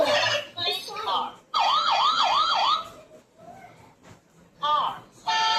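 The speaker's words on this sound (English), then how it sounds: "police car" A police siren wails in fast rising-and-falling sweeps, loud and close, broken up by pauses and other short electronic tones.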